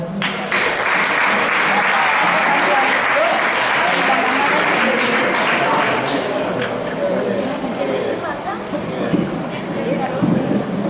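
A school end-of-year gala festival audience applauds singers who close the singing portion, a loud sustained wash of clapping with crowd chatter mixed in, easing slightly toward the end.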